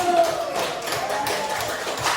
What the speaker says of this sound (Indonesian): Kita beri tepuk tangan dulu kelompok 1